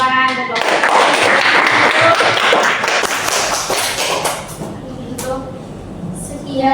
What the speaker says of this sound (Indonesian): sudah tepuk tangan untuk kelompok